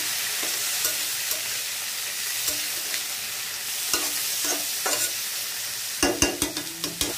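Leafy greens stirred in a pan with spice paste give a soft, low sizzle under repeated spatula scrapes and taps, growing busier with sharper clatters toward the end.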